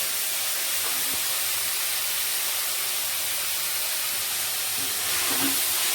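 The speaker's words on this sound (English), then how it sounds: "Let it slightly get sauteed in the oil." Steady hiss of curry leaves sautéing in hot oil for tuna cutlets, a constant sizzle with a faint pop near the end.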